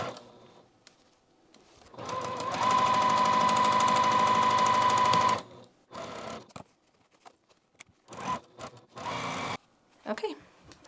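A sewing machine stitches a quilted pillow piece, running steadily and loud for about three seconds before stopping, with a few shorter bursts of stitching and handling noises afterward.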